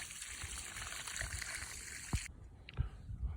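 Water running from a garden hose onto grape seedlings, a faint steady trickle and wash that cuts off partway, followed by a couple of soft dull thumps.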